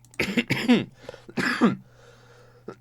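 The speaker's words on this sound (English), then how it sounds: "let me just cough a little bit there" A few rough coughs close up, clustered in quick bursts, followed by a quieter pause and one last short cough.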